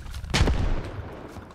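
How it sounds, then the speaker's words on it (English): Heavy gunfire booms once in the military shooter game Squad, a loud close report with a rumbling tail and fainter distant shots after it. "that's some insane gunfire"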